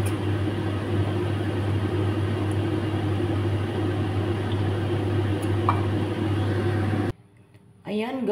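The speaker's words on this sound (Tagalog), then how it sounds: "Habang nagpiprito tayo sa 3 piraso." Banana pieces frying in hot oil give a steady, dense sizzle with a low hum underneath for about seven seconds, then the sound cuts off abruptly into near quiet, with a brief rustle at the end.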